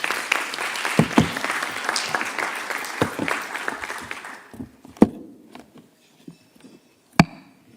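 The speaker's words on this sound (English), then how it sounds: "a warm round of applause" Warm applause from the audience at a closing ceremony of a health forum, thick and continuous at first, then thinning after about four seconds into a few scattered, distinct claps that trail off to near silence.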